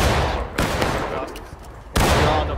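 Musket volley gunfire in the War of Rights game: loud broadband blasts at the start and again near the end, with scattered distant shots in between and a voice speaking over the battle.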